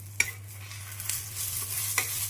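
Palm-fruit patishapta pancakes rolled with coconut filling fry in a pan, giving a steady soft sizzle under a low constant hum, broken by a few sharp clicks and scrapes from a utensil.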